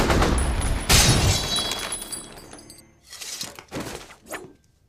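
Gunfire and bullet effects from an X-Men Apocalypse action scene come as a dense, loud burst of shots and impacts, then taper into a few scattered sharp hits and whooshes before falling silent.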